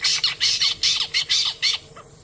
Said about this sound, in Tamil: ஆக்சுவலா மீன் பிடிக்கிறதுக்காகவே இந்த நீர்க்காக்காக்களை வளர்த்து அதுங்களை இந்த மாதிரி போட்ல கொண்டு போவாங்க